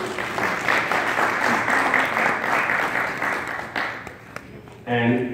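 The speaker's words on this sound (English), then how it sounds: "I want a big round of applause for her." Audience applause at a fifth-anniversary event, a sustained round of clapping that fades near the end as a voice comes in.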